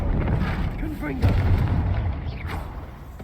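A Confringo blasting spell in the Hogwarts Legacy video game, heavy rumbling blasts with low booms and crackles over a few seconds, partly under talk.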